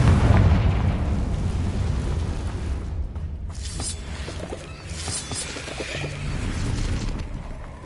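A Confringo blasting curse erupts in Hogwarts Legacy, a loud booming explosion followed by crackling debris and bursts, with no talking.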